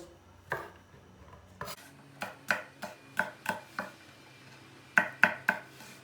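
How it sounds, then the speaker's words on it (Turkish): Knife chopping fresh green beans on a cutting board in quick, uneven bursts of sharp taps, close and fairly quiet, with pauses between runs. "Fasulyeleri doğradım."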